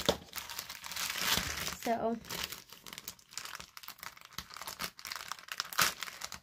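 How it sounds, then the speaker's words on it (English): A plastic poly mailer package is pulled and torn open by hand, giving loud, close crinkling and rustling in bursts, with a brief tearing rip, under a voice speaking. "I hate poly mailers in a way, though, because I can never get into them"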